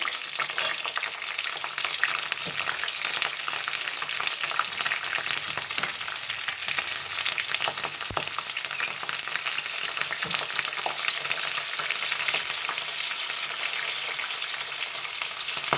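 Slit green chilies sizzle and fry steadily in hot oil while aloo samosas cook, a dense continuous crackle with occasional stirring, close and unbroken with no voices.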